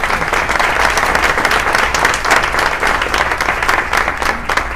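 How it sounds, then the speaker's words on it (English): At a chamber of commerce partnership luncheon, an audience applauds elected officials with steady, dense clapping that fills the room for several seconds. "will you please stand so that we can applaud you?"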